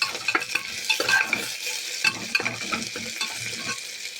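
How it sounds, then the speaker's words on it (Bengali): Chopped onion fries in a pan while a utensil stirs it in clusters of scraping and clinking strokes over a soft, continuous sizzle. The sound is close, with no speech. "পেঁয়াজটা কিন্তু খুব সুন্দরভাবে ভাজা হয়ে গেছে"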